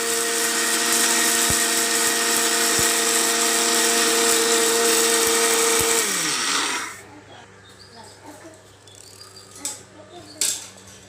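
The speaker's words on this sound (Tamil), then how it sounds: "நம்ம வந்து அரிசியை வந்து சின்ன சின்ன ரவை பதத்துக்கு நம்ம அரைச்சி எடுத்துக்கலாம்" A mixer grinder grinding rice to a coarse semolina texture, a loud steady whirring motor for about six seconds that winds down and stops, followed by faint clinks and handling sounds.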